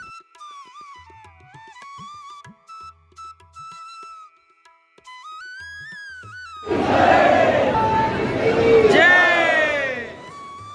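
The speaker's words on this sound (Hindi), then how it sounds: "यहाँ पे भी काफी ज्यादा भीड़ है" A dense crowd in the darshan queue at an Ujjain temple, a loud swell of many voices, shouts and babble that rises suddenly after a stretch of quieter tonal sounds and then fades near the end.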